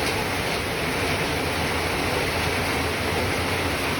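Heavy rain with hailstones falling, a dense unbroken roar of loud, even noise for the whole stretch.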